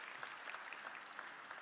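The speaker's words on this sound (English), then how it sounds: "Applause." Audience applause at a startup acceleration program event in Osijek, heard as a brief, very faint patter of many hands clapping in steady texture, distant and low in level.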